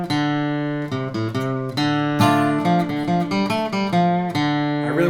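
Guitar picking the B section of the folk tune Walkin' Boss, with a steady run of clear, sustained melodic notes and occasional strums, close and alone with no talking.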